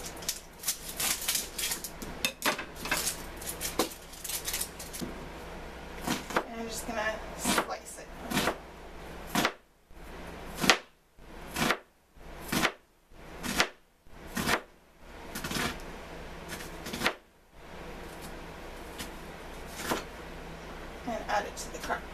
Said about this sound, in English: now I'm gonna cut up my onion